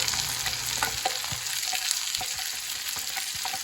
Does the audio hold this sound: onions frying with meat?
yes